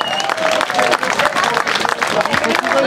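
A festival crowd at an outdoor stunt show claps loudly in a dense, uneven roar, with crowd noise and a voice speaking over the applause throughout.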